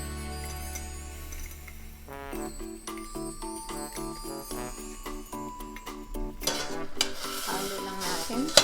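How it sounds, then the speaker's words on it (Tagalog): Chicken adobo pieces frying in a pan without their marinade give a steady sizzle with occasional stirring clatter, partly masked by background music that runs throughout. "Fry ko siya, hindi ko muna isama yung marinade sauce."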